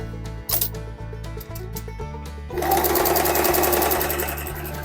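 A sewing machine stitches through denim jeans, starting with a few short bursts and clicks, then running in a fast, steady, close whirring rhythm for the last couple of seconds.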